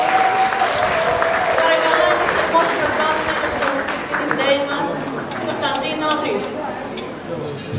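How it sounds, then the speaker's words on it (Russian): A concert audience at an entertainment venue in Thessaloniki applauds a pop singer and DJ, with a steady, dense wash of clapping and crowd chatter, while a host speaks over it. "Аплодисменты популярному исполнителю эстрадных песен и диджею нашего вечера"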